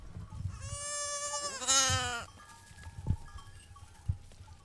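A sheep belonging to a nomadic Kurdish tribe in Kermanshah, Iran, lets out one long, loud quavering bleat at close range, followed by quieter animal sounds and a few thumps.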